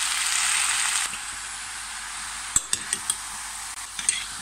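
Minced meat and onions stirred in a frying pan, with a steady sizzle at first that drops away, followed by several sharp utensil scrapes and clinks against the pan.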